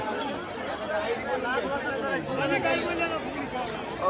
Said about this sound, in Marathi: गर्दी केवढी